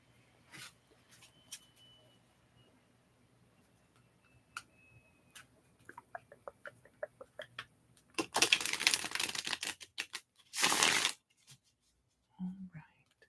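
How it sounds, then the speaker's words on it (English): Tarot cards being shuffled close up in a quiet ASMR setting, first as scattered soft ticks and taps, then as two dense riffling bursts, with a faint whispering voice between them. "It's very hard for me to shuffle these cards."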